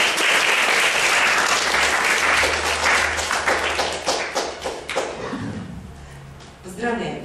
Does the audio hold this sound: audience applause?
yes